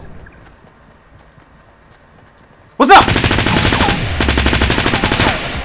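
Rapid SMG gunfire in the video game Fortnite: after a quiet stretch, a loud, close burst of fast repeated shots erupts and continues steadily until the end.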